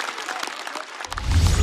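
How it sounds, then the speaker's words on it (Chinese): Studio audience on a Chinese variety roast show breaks into applause, a short burst of clapping that swells louder toward the end. "再次掌声送给鸡排哥"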